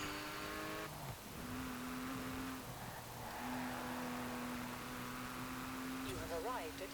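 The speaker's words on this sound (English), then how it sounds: "it's a nice high revving flat 6 engine" A 1995 Porsche 911 Carrera 2 by Gunther Werks in Forza Horizon 4, its naturally aspirated flat-six revving high and steady under a faint game soundtrack, with a brief rising whine near the end.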